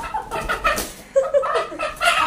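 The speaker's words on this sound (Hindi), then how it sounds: "ये जो हमारी मुर्गी है ना, ये हमें आजकल बहुत तंग कर रही है" A lone pet hen clucking close by in quick, uneven bursts of sharp, throaty notes separated by short pauses.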